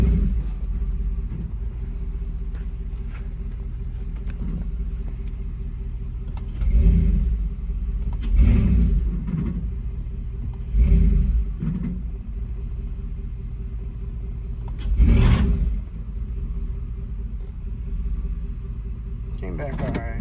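A car engine idles in gear with the idle timing locked, a steady, low rumble running through the whole stretch, with a few brief swells in level and someone talking over it.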